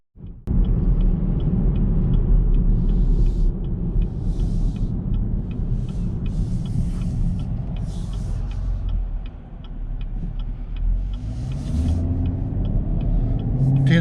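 A 2019 Chevrolet Camaro SS with the ten-speed automatic drives along, its engine a steady deep rumble inside the cabin with small ticking sounds and a brief dip as it shifts.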